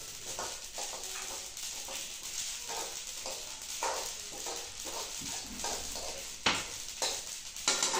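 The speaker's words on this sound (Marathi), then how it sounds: "तेव्हा तीळ भाजायला आवाज यायला लागेल।" Sesame seeds roast in a dry pan for dink laddoos, giving a soft, busy crackle and steady hiss with irregular stirring scrapes, close and quiet, a louder scrape near the end.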